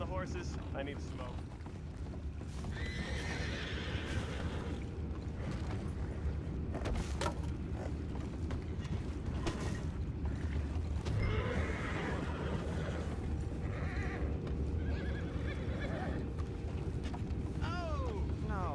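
Horses whinny and neigh among creaking and hoofbeat sounds in a Western-style video game, with occasional bright calls standing out over a steady low-pitched ambient bed and distant game noises.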